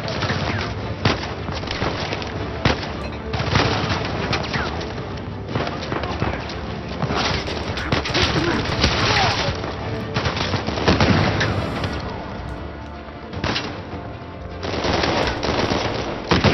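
Heavy gunfire in Uncharted 4 as a sniper and other weapons open up: dense, loud bursts and single shots keep coming almost without a break, layered with game effects and voices throughout.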